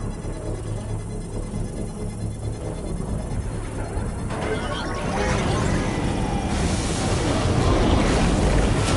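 Water gushing from an underground spring in Death Stranding 2, a broad rushing wash that grows louder and fuller partway through, with a voice speaking over it.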